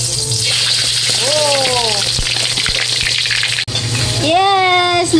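Pig intestine shaped into a donut frying in hot oil, a steady loud sizzle and bubbling throughout with a person's voice speaking briefly over it.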